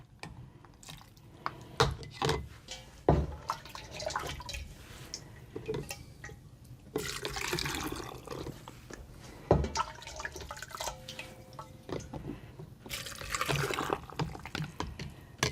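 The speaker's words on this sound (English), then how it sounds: "I'm going to try to put more or less the same amount of broth in each one right from the beginning" Homemade chicken broth poured into canning jars for a garlic sauce and mushroom canning recipe: close drips, splashes and trickling pours in separate bursts, with small clinks between them and no talk.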